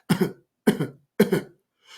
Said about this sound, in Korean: 잔 기침을 3번 한다